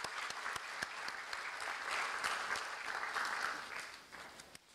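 A lecture audience gives former President Mkapa another round of applause: a short, fairly soft burst of many hands clapping together, even in level and tapering off at the close, with no voices over it.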